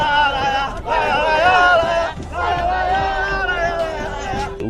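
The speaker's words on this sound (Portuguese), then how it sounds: "Vamos Palmeiras pra cima, nossa torcida nunca para de cantar" Palmeiras supporters chanting together in the stands of the Palestra Itália stadium in São Paulo, a dense, loud crowd of sung voices rising and falling in waves with a few breaks, close and continuous.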